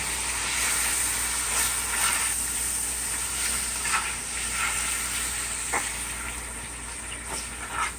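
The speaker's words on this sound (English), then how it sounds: "Put some green seasoning. Stir fry again." Deli meat stir-fried with green seasoning in a pan for pepper steaks gives a steady, close hiss and sizzle that runs unbroken throughout, with faint scraping now and then and no talking.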